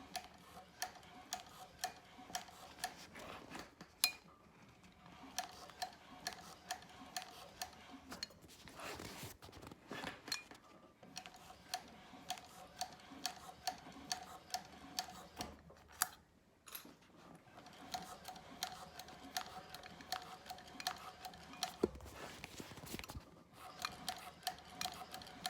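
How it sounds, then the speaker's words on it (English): A sewing machine top stitching slowly, with a long stitch length, gives a steady, soft ticking of needle strokes at an even pace, faint and close, with brief pauses and no talk. "I go really slow on top stitching."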